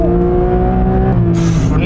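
A 2024 Porsche 911 GT3 Touring engine revs hard under acceleration, a loud, close, rising tone that cuts off abruptly at a gear change before climbing again.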